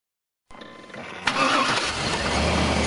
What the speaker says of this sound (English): And then start the Suburban's engine.